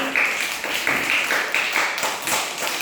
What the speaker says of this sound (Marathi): व्हेरी गुड टाळ्या वाजवा मनस्वीसाठी